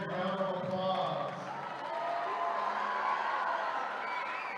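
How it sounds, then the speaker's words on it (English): A crowd at a state high school swim finals meet, gathered at an indoor pool, gives the officials a sustained round of applause, a broad even wash of clapping mixed with murmuring voices. "please join us by giving our officials a big round of applause"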